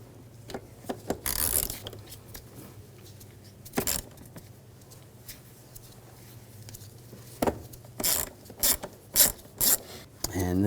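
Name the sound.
removing screws with a T25 socket ratchet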